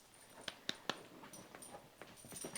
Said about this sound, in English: I'm really sorry if you can hear my dog over there.